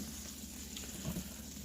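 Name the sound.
food sizzling in a hot pan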